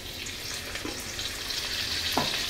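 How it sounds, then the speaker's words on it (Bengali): Bitter gourd frying in oil in a kadai, a steady close sizzle with a couple of soft stirring knocks. "একটু উচ্ছে ভেজে নেব অল্প করে"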